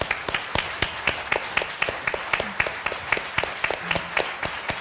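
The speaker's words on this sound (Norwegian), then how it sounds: "så gir vi dere en applaus" Audience in a hall at the opening of a Norwegian nonfiction festival applauds, a fairly quiet but clear run of rhythmic claps from a modest crowd, evenly paced and without speech.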